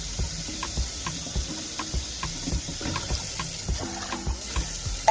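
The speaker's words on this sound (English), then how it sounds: "I'm just going to strain them out and rinse them out really, really well" Running tap water pours over canned beans in a strainer in a kitchen sink during rinsing, a steady hiss and splash with faint clinks and knocks, fairly close, no talking.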